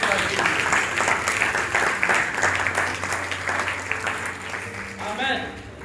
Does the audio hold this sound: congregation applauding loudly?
yes